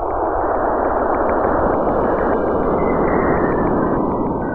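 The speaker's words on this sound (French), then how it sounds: "Ce que vous entendez là, c'est une émission radio d'une durée totale de 16 minutes" Radio emission from Saturn's moon Enceladus captured by the Cassini probe and sped up into a dense, steady hiss-like roar with a faint rapid flutter, constant and loud throughout without talk.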